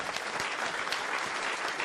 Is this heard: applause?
yes